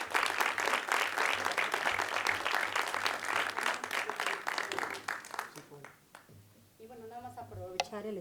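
An audience at a legislative forum on lung cancer in Mexico claps steadily and densely for about five seconds. The applause then thins out and a voice starts speaking.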